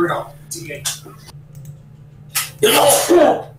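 A sharp, sudden sneeze bursts out near the end after some quiet clicking and shuffling sounds, close to the listener.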